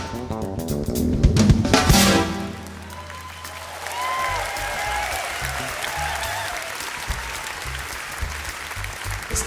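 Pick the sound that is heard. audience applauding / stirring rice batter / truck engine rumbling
audience applauding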